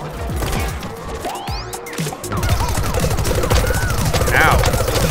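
Gunfire rattles through a cartoonish plant-versus-zombie shooter battle, rapid repeated shots and impacts layered with other game effects, growing busier halfway through.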